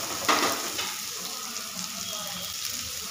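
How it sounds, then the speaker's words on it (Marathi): Onion frying in hot oil for Jammu-style rajma, a hissing sizzle that flares briefly at the start then settles into a steady moderate crackle, close by. "तर व्यवस्थित कांदा भाजून घ्यायचा आता."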